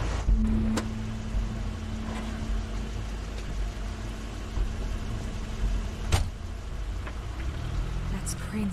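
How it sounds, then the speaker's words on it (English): A car arriving in the video game The Wolf Among Us: a low engine idles and rumbles steadily, then a tone holds briefly and sharp clicks and a thump follow, like a door or brakes, at moderate loudness with no voices. "That's Crane's car."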